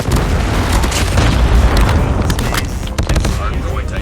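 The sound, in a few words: Predator missile explosion in Call of Duty Mobile video game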